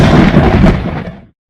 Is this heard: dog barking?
no